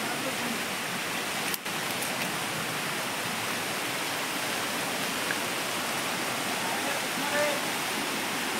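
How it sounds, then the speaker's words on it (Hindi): Fast-flowing water at a hidden waterfall in dense jungle roars as a constant, broad wash of sound, steady and enveloping, with one brief knock early on. "वो पानी का बहाव इधर बहुत तेज है"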